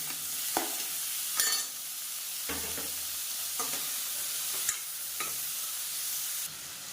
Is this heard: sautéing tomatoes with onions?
yes